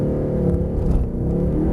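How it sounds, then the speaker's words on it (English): A Mercedes-Benz C63 Black Series roars at full throttle from a standstill at Mercedes-Benz World, its engine note loud, close and sustained throughout with no talk. "Bury the throttle and take your foot off the brake."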